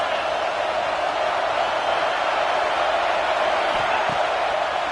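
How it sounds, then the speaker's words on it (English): Football stadium crowd at an Alabama vs Texas Tech game, a steady loud roar of many voices filling the space throughout, with no distinct cheers standing out. "This crowd trying to make life miserable for this offense."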